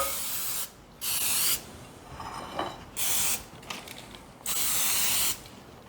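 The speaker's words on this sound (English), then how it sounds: "I'm going to go ahead and spray my paper too." Three bursts of cooking spray hiss loudly onto parchment paper in close succession, separated by brief pauses with faint rustling between them.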